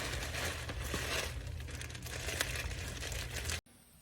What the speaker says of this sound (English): So we're gonna use our scissors and we're gonna chop this part down